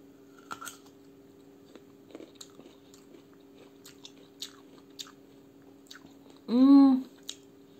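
Soaked pickled apples are eaten by hand, with soft scattered bites and chewing sounds followed by a louder sustained moist crunch near the end, close up.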